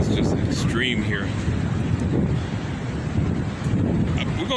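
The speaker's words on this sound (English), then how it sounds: "A huge gust of wind just ripped off my netting up to 10 here." Violent wind gusts of up to 70 mph roar and buffet a tent, a loud continuous rushing that swells and dips without letup.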